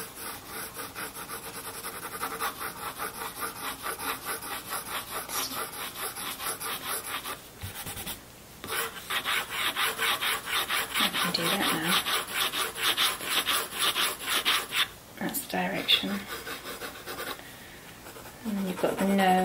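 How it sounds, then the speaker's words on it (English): Fingers rub across a skull drawing on paper to blend the marks, making a steady, close, dry scratchy swishing that continues for most of the stretch with brief pauses. "when you rub your fingers, when you rub it, so it's kind of blending in nicely now"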